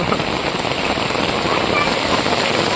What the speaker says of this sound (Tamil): எவ்வளோ தண்ணி போய் பார்த்தீங்களா